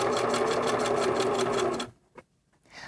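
A domestic sewing machine runs steadily, stitching a quilt seam with a quarter-inch allowance, a loud fast rhythmic whir for about two seconds before stopping, followed by a faint clack and near silence.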